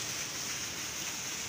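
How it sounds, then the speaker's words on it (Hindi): Heavy torrential rain with wind pours steadily in a dense, unbroken hiss that stays loud and constant throughout, with no talking over it. "और बारिश भी तेज़ है"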